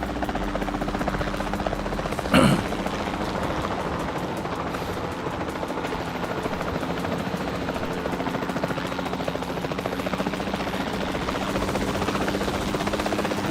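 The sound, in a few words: helicopter in video game Jurassic World Evolution 2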